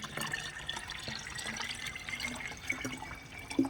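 Water trickles and splashes softly into a plant fertilizer mixture, a gentle continuous pour with small clinks, close and fairly quiet.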